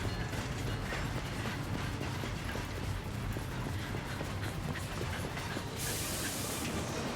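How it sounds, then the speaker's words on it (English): A train in the video game Syberia: The World Before gives a steady, dense mechanical rumble with rhythmic clattering and ratcheting clicks, continuous and fairly loud throughout, with no voices over it. "The train for the airport is about to depart."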